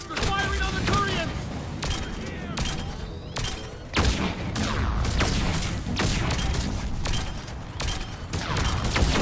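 Dense battle gunfire from Reaper harvesters attacking Turians in Mass Effect, with booming blasts and rapid bursts layered over one another, loud and continuous throughout, and a sharp heavy impact about midway.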